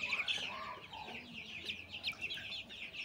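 Several 20-day-old chicks cluck and chatter close by, with short overlapping calls throughout and no talking.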